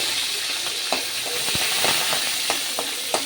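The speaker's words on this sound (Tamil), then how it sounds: "இப்போ நான் கருவேப்பிலை போட்டுக்கிறேன்." Curry leaves hit hot oil with mustard seeds, giving a loud, steady sizzle and crackle with scattered pops, close and without talk.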